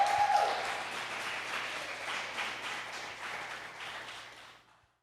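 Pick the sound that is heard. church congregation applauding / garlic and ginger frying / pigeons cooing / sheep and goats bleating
church congregation applauding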